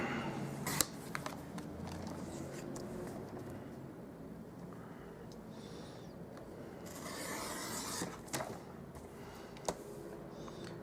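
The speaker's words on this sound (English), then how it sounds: "I'm just going to trim this page up" Paper trimmer slices cardstock for a stamped card, a continuous scraping rub with a few sharp clicks, close and fairly quiet.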